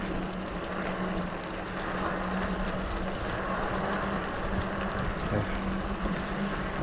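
A LAFLY T1000 Pro electric fatbike riding on a single motor of its twin-motor setup, a steady whirring drone with road and wind rumble, continuous and close with no voices.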